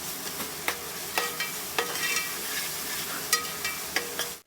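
Ginger garlic paste goes into a tomato masala frying in a pan, with steady sizzling throughout and several sharp stirring clinks and scrapes of a spoon against the pan, close and clear with no talking.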